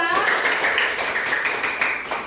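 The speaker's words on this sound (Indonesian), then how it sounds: "kita beri tepuk tangan untuk kelompok 2" A primary school class claps for a student group after their discussion, with quick, steady handclaps filling the room at a lively level and some voices and tones blending in beneath.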